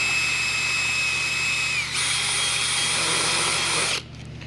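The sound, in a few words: drill with 1/2 inch countersink bit drilling out a rivet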